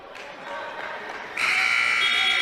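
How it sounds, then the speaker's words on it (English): A loud, sustained electronic buzzer cuts in over crowd noise at a men's college wrestling match in an arena and holds steady. "And the buzzer sounds once again as the Jackson Smith lead."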